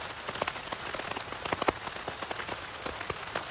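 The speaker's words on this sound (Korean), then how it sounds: "타프 위에 지금 떨어지는 갯방울 소리 너무 좋아요." Rain patters steadily on a camping tarp during a solo rainy-weather campout, a dense scatter of close, crisp drops with occasional louder splats, no voices.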